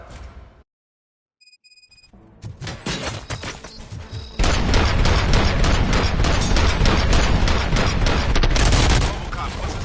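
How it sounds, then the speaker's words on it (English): Gunfire breaks out in a Robocop film scene. A short electronic beep comes after a moment of silence, then rapid bursts of shots build into a loud, dense, sustained fusillade. "Gunshots? What's going on?"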